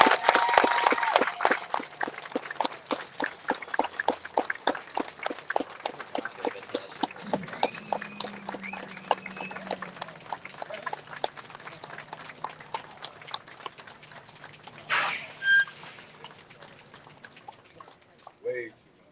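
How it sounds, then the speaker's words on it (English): Steady rhythmic clapping from a group at a truck reveal, evenly paced and gradually thinning out, with faint voices and a few shouts near the end. "How about a round of applause?"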